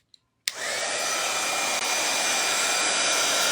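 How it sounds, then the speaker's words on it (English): A handheld hair dryer switches on with a click and blows steadily and loudly at close range, drying a fairy garden terrarium piece, with no talk over the continuous whoosh. "Here's my hair dryer here."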